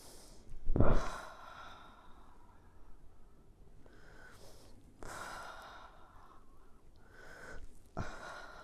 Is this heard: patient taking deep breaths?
yes